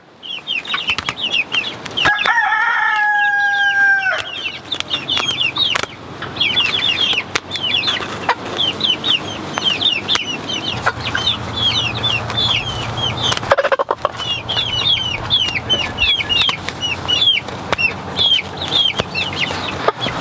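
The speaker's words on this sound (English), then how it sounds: "So if anybody wants an Icelandic rooster, let us know." An Icelandic rooster crows several times, a long drawn-out call near the start, amid a steady backdrop of clucking and chirping chickens in a farmyard flock, fairly loud and close with no talking.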